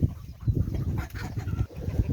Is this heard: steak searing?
no